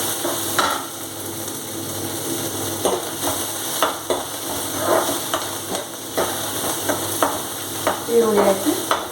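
Onions frying in a pan with green chillies and curry leaves for a Karnataka-style palya, a steady sizzle with repeated scraping stirs and spoon knocks against the pan, close and prominent.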